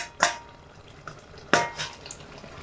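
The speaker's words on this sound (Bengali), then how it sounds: "ঢাকাটা খুলে দেখে নেব একবার কি অবস্থায়" A metal lid comes off a pot of simmering jujube pickle, giving two sharp clanks spaced about a second apart, with faint bubbling and small kitchen knocks between them.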